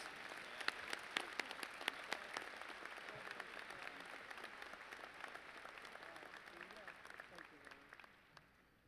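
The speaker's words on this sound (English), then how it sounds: "Would you all please join me in congratulating our university medalist, Nicole Mcewen, with a round of applause." A large audience gives a sustained round of applause at a university summer commencement ceremony, with distinct claps standing out early before the sound gradually thins and fades, and some voices are heard in the crowd.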